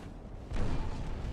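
Destroyer guns firing high-explosive shells in a naval battle in Ultimate Admiral: Dreadnoughts, a dull low boom rising at mid-clip and rumbling on steadily, fairly faint and distant.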